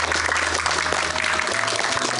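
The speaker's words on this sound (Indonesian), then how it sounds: "Boleh tepuk tangan dulu." A studio audience at a religious television program breaks into applause, a short, loud, continuous wash of clapping with a low hum underneath.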